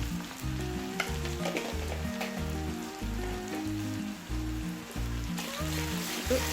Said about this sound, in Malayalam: എണ്ണ ചൂടായി കഴിയുമ്പോൾ നമ്മൾ ചതച്ച് വെച്ചിരിക്കുന്ന ഉള്ളി, വറ്റൽമുളക് ഉണ്ടല്ലോ, അത് ഇടാം.